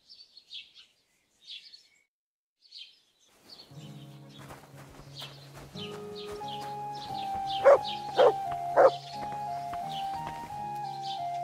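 A dog named Mutt barks a few times in Kingdom Come: Deliverance II, with short sharp yelps over ambient music and scattered bird chirps.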